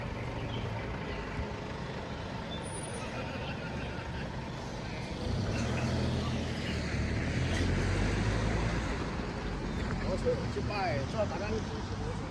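A school bus for Shanghai American School pulls up at a suburban bus stop in Shanghai, a low engine rumble growing louder and heavier over several seconds amid road noise, with a person talking over it.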